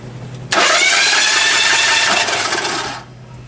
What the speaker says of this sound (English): crank it a few more times that way, see if it finishes itself off